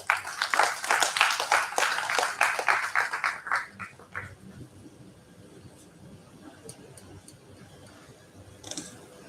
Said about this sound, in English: please join me in welcoming Professor V.M.S.R. Murthy with a warm round of applause